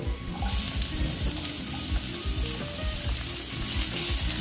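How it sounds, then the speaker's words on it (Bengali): Chopped tomatoes hit a hot pan of oil while cooking a soybean curry, producing a loud, continuous sizzling and crackling fry with faint stirring throughout, close and without talk. "এখন আমি দিয়ে দিচ্ছি টমেটো কুচিগুলো"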